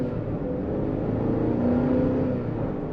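Inside a 2021 Ford Explorer XLT, the engine drones steadily as it accelerates under automatic shifting, with a low, continuous hum and some road noise; no one speaks.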